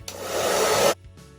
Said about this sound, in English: I'm just gonna grab my blow dryer and concentrate on this section to kind of start straightening out the root